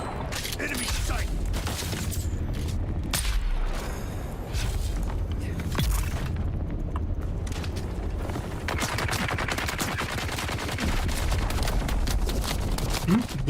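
Rapid, sustained rattling fire from a Gatling gun in Dune: Awakening, loud and dense in bursts across the whole stretch, with mechanical clatter and brief voices in the mix.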